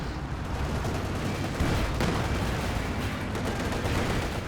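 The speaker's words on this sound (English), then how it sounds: "That's 2 anti-tank guns blasting away at it." Anti-tank field guns fire at a Panther tank in the video game Company of Heroes 2, producing a dense, loud, unbroken barrage of overlapping cannon blasts and battle noise.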